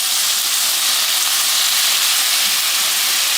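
Garlic, honey and soy sauce sizzling hard in a hot pan, a loud steady hissing crackle that fills the clip without a break, close up and with no talking.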